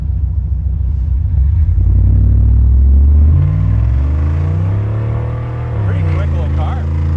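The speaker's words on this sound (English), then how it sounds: "that exhaust is just a fun sound" Revving V8 of a 1987 Camaro IROC Z28 through new dual exhaust with a holed muffler, a loud, aggressive rumble that climbs as the car accelerates and the tires break loose, close by with a voice talking over it.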